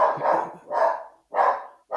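A dog barks four times nearby, loud and regularly spaced, each bark short and rough, with no talk over it.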